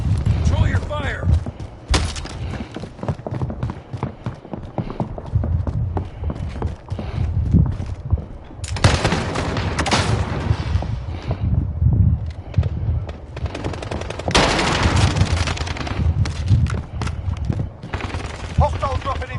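Rapid bursts of gunfire and heavy thuds in a Call of Duty Warzone quads match, loud and continuous, with players talking over the shooting.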